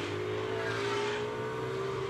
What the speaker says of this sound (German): Hier haben wir Albert Costa, der gerade durch die zweite Kurve hindurch fährt.